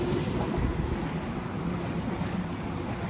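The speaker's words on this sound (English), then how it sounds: "Once this train passes" A Sydney Trains train passes Petersham station at night, heard from the bridge above as a steady, broad rumble of wheels and carriages, loud and continuous without a break.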